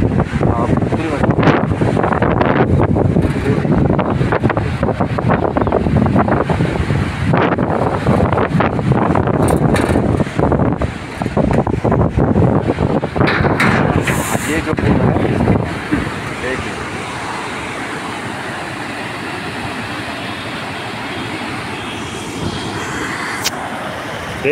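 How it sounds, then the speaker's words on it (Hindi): Rushing water of the Aharbal waterfall on a river in Kashmir roars loud and steady, a continuous broadband wash that softens slightly toward the end. "यहाँ जो दरिया है, वाटरफॉल है,"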